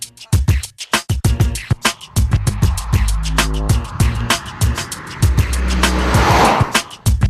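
A Mazda3 Sport 2.5 engine revs and shifts through gears, with rising whines, sharp bursts and a tire squeal, loud and close throughout.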